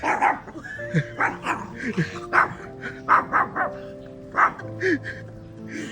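A dog barks and yips repeatedly at close range in short bursts, with people talking over and between the barks.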